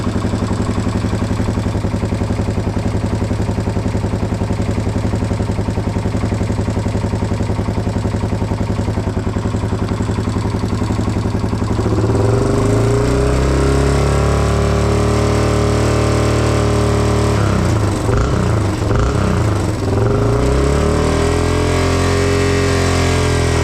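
A 1987 Yamaha TW 200 motorcycle engine runs loud and steady, then partway through the pitch rises and falls as it is revved a few times before settling again.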